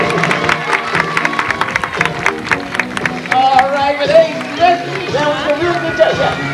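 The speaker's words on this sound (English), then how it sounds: "How about a big round of applause for Sundance and Crunch?" A crowd claps and cheers at a 1986 Marineland dolphin show, loud and lively, with a voice talking over it and high squeaky whistles toward the end.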